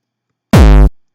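A single heavily distorted oldschool gabber kick drum hit with the preamp fully maxed, a loud, saturated low boom with a gritty buzzing top that cuts off abruptly.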